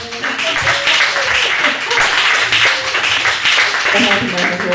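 An audience applauds, a steady, loud wash of many hands clapping that fills the whole stretch, with voices mixed in underneath.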